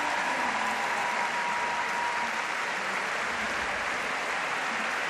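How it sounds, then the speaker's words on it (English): A large arena crowd applauds steadily at a European artistic gymnastics championship as an injured gymnast with a bad left knee is led off the competition floor, a dense, continuous wash of clapping with a faint voice underneath. "Lorette Sharpie is being led off the competition floor at the moment to applause from the crowd"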